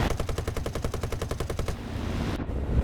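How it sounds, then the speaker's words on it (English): A Bristol Beaufort Mk VIII fires a sustained burst of its guns in War Thunder, a rapid, evenly spaced stream of shots lasting under two seconds, then a quieter rumble of engine noise. "I'll fire one more burst, maybe we'll get a lucky fire or something"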